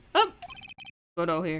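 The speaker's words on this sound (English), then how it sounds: "Oops, sorry. That's my phone." An electronic phone ringtone from the Ace Attorney video game plays as a short, bright, beeping melody of repeated tones, followed after a brief pause by a voice speaking.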